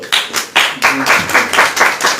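A congregation at a Christian worship gathering claps loudly and in unison for Lord Jesus, with about nine sharp, evenly spaced claps in a steady rhythm.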